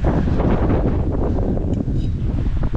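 Strong wind buffets a boat, making a loud, steady roar of gusts battering the microphone throughout, with no talking.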